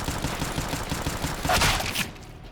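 Rapid gunfire in Counter-Strike: Global Offensive, a dense string of shots over a busy in-game background, swelling into a louder burst near the end before cutting off.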